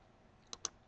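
Two quick, light computer mouse clicks, a right-click in the Eclipse software, snap close together near the end of an otherwise quiet moment.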